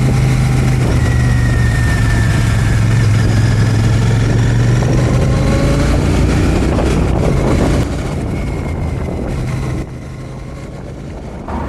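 A Royal Enfield Shotgun 650 motorcycle engine runs steadily under way near Newquay in Cornwall, a loud continuous drone with the pitch rising and falling, then the engine easing off near the end.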